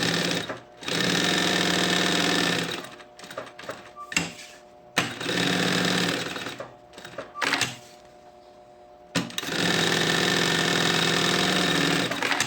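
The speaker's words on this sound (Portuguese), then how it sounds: "vou passar aqui uma costurinha pra segurar esse forro" Sewing machine stitching a lining seam on a backpack, running in loud, steady bursts of rapid needle clatter separated by short pauses and handling clicks, with no talk.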